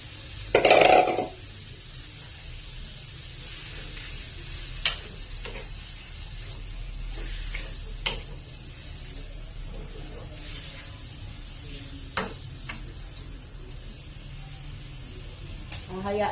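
Pork with liver frying in its own oil, a steady close sizzle and crackle with occasional sharp pops and a loud clatter near the start.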